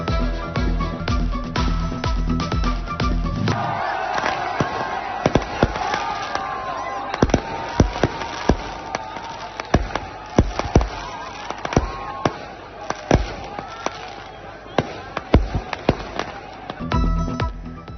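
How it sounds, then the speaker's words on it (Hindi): New Year celebration fireworks display, with dense volleys of sharp bangs and crackling bursts repeating irregularly over a loud crowd murmur, some blasts close and booming, others lighter crackles, and music faintly audible at the start and end. "आतिशबाजी का खूबसूरत मुजाहरा, आसमान रंगो नूर में नहा गया।"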